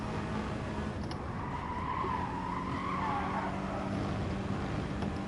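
A race car in Gran Turismo Sport brakes hard into a corner, its tyres squealing in a sustained skid over steady engine drone, with no talking.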